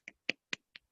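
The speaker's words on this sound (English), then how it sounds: "let's give Yuan a virtual round of applause if possible" Applause for a speaker at the close of an online talk: five sharp, separate handclaps at an even pace, close and fairly quiet, with no other sound.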